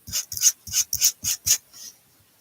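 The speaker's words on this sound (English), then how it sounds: "And I am sanding both sides." Hand-sanding a small craft piece: about seven rhythmic scratchy strokes of abrasive paper rasp back and forth close up, then fade out, with no voices.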